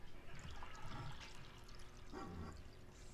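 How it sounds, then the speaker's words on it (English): Pickling liquid for quail eggs is poured into a cooking pot, a soft splashing gush arriving in two main pulses with a faint trickle between them, fairly quiet and without talk. "Let's pour that in the pot."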